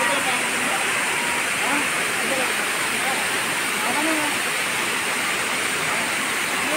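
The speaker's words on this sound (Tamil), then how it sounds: "அந்த அருவியோட சத்தம் கேட்குறதுக்கே அவ்வளோ இனிமையாக இருந்துச்சுங்க" A waterfall at Yercaud gives a steady, dense roar of rushing water, loud and close, with faint voices underneath.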